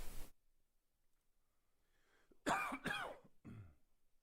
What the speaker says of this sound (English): I need to clear my throat